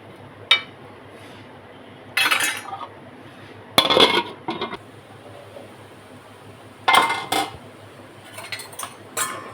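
A metal lid meets a cooking pot holding banana flower with salt and turmeric, giving several sharp clanks and clinks spaced across the moment over a quiet room hum, with no talking.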